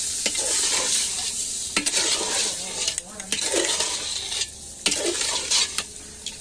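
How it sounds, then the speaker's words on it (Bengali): Goat meat being stirred for biryani in a pot: continuous sizzling of oil-heavy meat, with repeated scraping clinks of a spoon against the pot at irregular intervals, close up and without talk. "এখন দিয়ে দিচ্ছি হলো খাসির গোশত, সবগুলো দিয়ে দিল। এখন সুন্দর করে নেড়ে নিতে হবে।"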